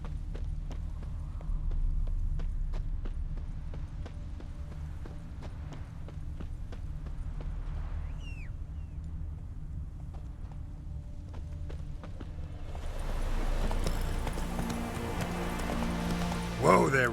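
Roach, Geralt's horse in The Witcher 3, clops along in a steady rapid hoofbeat rhythm that grows louder and busier toward the end, under quiet game ambience.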